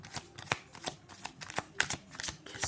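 Oracle cards being shuffled and drawn by hand, a close run of quick papery riffles and flicks in an uneven rhythm, with no voices.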